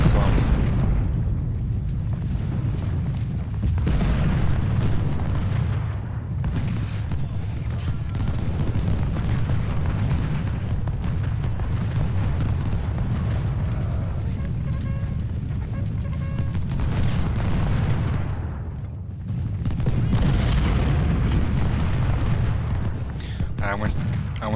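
Civil War cannon and artillery fire from Ultimate General: Civil War during a river-crossing battle. Dense, overlapping booms and explosions rumble continuously and loudly throughout, swelling and easing in waves.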